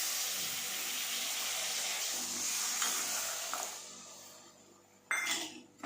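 Water is poured from a bowl into a pot of palm pulp, a steady splashing rush that fades out, followed by a short clatter of utensils near the end.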